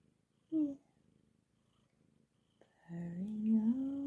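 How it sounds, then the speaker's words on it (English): A Bombay cat purrs softly in an office, a faint low rumble between brief bursts of a crooning human voice. "You're the perfect purring Bombay kitty cat."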